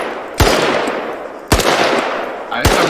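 Three loud, sharp gunshots fire in a video game, spaced roughly a second apart. Each blast leaves a long, decaying rumble that fills the gap before the next one.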